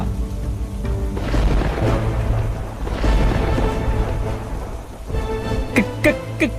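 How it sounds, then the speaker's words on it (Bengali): Heavy rain pours down in a cartoon scene, a dense, steady roar of downpour filling the whole stretch with a few sharper splashes or rumbles near the end. "কি জোরে বৃষ্টি হচ্ছে রে"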